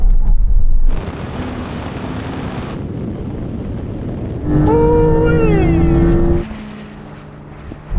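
Drag race between a Tesla Model S Plaid, Ferrari SF90 and Porsche 911 Turbo S: loud wind rush and road roar inside a car, with a rising electric whine and a voice speaking over it.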